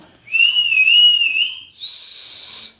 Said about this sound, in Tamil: நான் விசில் எடுத்து அடிக்கும்